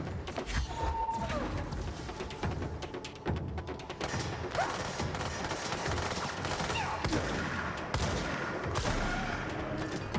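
A gun fires at an enemy in the video game Control, giving bursts of sharp, rapid gunshots over dense game noise that carry on for about ten seconds.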